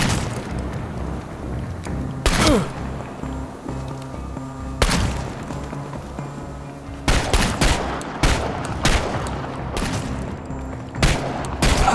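Gunfire in the survival shooter Chernobylite, sharp loud shots at irregular intervals over a busy combat background, with a tight cluster of rapid cracks in the second half.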